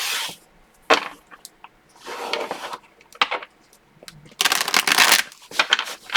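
Tarot cards shuffled by hand, a series of crisp riffling bursts and soft slides and taps on a surface, loud and close, with pauses between the shuffles.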